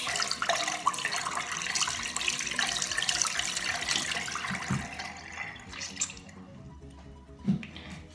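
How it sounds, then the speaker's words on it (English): Tap water runs steadily into a sink as something gets washed beneath it, a broad continuous rush that thins and quiets toward the end, with a couple of faint clunks near the close. "Let's give that a bit of a wash."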